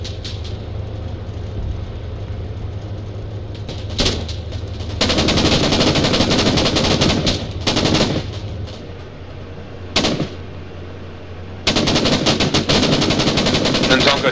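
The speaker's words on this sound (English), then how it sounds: "You can also use the big machine gun." Sustained machine gun fire from the Arma 3 video game, several long bursts of rapid, loud shots separated by brief pauses, over a steady low engine rumble.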